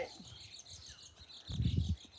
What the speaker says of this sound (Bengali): ওই যে দেখতে পাচ্ছেন বাবাই পাখির বাচ্চা